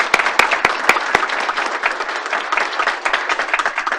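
Audience applause at a FERC commission open meeting as the new chief judge is announced, a steady dense patter of many hands with a few sharp louder claps near the start, sustained and fairly close throughout.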